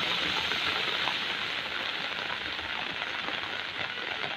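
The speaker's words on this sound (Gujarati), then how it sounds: "તેને લઈને જ ધોધમાર વરસાદ છે તે હાલ શરૂ થયો છે" Heavy rain pours down over a city street in Rajkot, a dense, steady roaring hiss that fills the scene without pause and masks any other sound.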